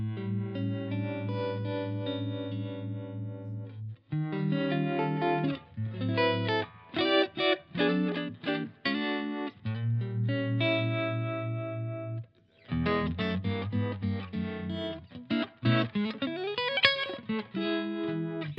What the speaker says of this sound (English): I'm going to just turn the OTS off again and just have the clean sound, and I'm going to add that harmonic vibrato.